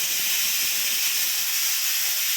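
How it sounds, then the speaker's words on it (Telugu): A pressure cooker cooking moong dal vents steam through its whistle, a loud, continuous, even hiss that holds steady from start to finish with no talking. "విజిల్ వస్తుంది చూడండి."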